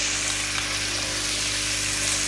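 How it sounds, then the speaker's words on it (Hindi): Chicken stirred into hot oil for Punjabi chicken and matar pulao, a dense, steady hissing sizzle with a faint constant hum underneath, close and even throughout. "चिकन को शामिल करके आपने इसको अच्छे से ऑयल में मिक्स कर देना है"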